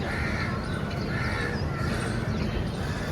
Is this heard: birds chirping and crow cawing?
yes